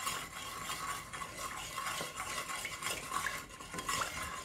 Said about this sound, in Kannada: ಇದಿಷ್ಟನ್ನು ಒಂದ್ಸಲ ಚೆನ್ನಾಗಿ ಮಿಕ್ಸ್ ಮಾಡ್ಕೊಳ್ಳೋಣ